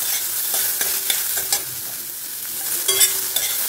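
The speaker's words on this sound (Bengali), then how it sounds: "দিয়ে দিচ্ছি পেঁয়াজ, পেঁয়াজ কুচি দিয়ে একটু ভাজবো আগে।" Chopped onions sizzle in a small amount of hot oil, a steady close frying hiss broken by a few sharper crackles and stirring clatters, with no one talking.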